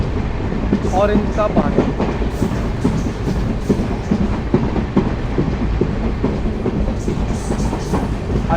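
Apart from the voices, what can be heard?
Amritsar–Bikaner Superfast Express train running on rails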